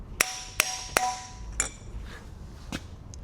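A bearing is tapped onto a Hyundai Kona gearbox rotor with sharp metallic hammer strikes, three quick ringing hits followed by two lighter, spaced taps, close and crisp in a quiet workshop.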